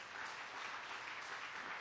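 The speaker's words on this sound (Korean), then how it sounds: "여러분 여기 앉아 계신 우리 남편들 향해 여러분 격려의 박수를 좀 하시기 바랍니다." A church congregation applauds the husbands seated among them with steady, dense clapping that carries evenly from start to finish, heard from a slight distance in a large room.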